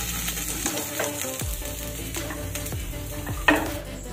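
Soybean chunks fry in oil in a wok with a steady sizzle, while a spatula scrapes and stirs in repeated strokes and one sharp metallic clank rings out near the end.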